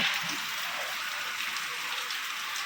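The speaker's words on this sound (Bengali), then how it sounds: "কিন্তু এইদিকে বৃষ্টি শুরু হয়ে গেছে" Steady rain patters softly and continuously onto a veranda, a faint even hiss of drops falling on a surface.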